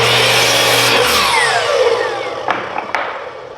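Power saw cutting a cedar board for an octagon planter, a loud close whine that winds down after about a second and fades, followed by a few sharp knocks.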